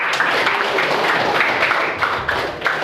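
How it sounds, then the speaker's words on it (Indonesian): A classroom of students in Indonesia claps together in a dense, steady patter that carries on for a few seconds, loud and close throughout. "Tepuk tangan."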